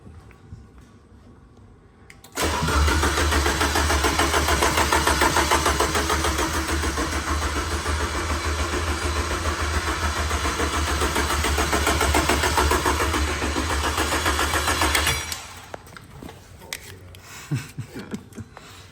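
A rebuilt race car engine fires on its first start-up, catching abruptly and running at a loud, steady, rough idle for about twelve seconds before cutting off, with quieter ambience on either side.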